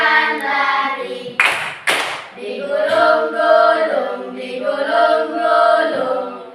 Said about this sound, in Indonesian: Buka tutup, bertepuk tangan.